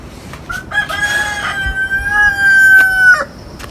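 A rooster crows once, loud and close, a long drawn-out call lasting a few seconds.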